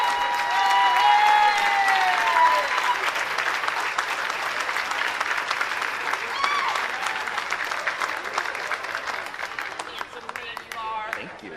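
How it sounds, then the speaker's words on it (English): Sustained audience applause fills a gala auction hall during the 2021 Red Ribbon Gala, dense and steady for several seconds before slowly thinning out. "Let's have a round of applause."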